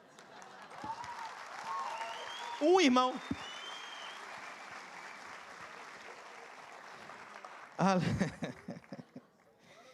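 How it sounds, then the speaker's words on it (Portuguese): Church congregation at a Sunday prosperity sermon claps softly and steadily in the background, with a voice breaking in loudly twice. "Um aplauso"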